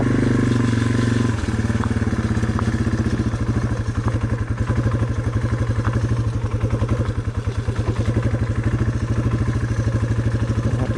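A Yamaha TW200 motorcycle creeps along in a slow race ridden without the clutch, its single-cylinder engine thumping in a steady, even chug at low revs, loud and close throughout with a brief dip near the start.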